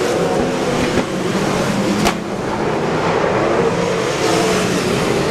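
Race cars roaring around the oval at Ocean Speedway during a main event, a steady loud engine drone with several cars running close together and no pauses.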